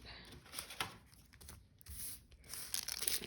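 Scissors snip through a paper decoration from a 4th of July DIY cupcake kit, giving several close, crisp cuts and crinkling rustles of paper in uneven bursts, with no talking.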